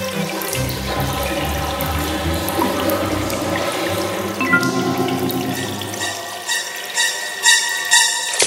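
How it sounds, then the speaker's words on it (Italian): Running water pours steadily in a cartoon shower scene, with a dense continuous splash that holds level for several seconds before thinning out near the end; no voices over it. "Una bella doccia rilassante."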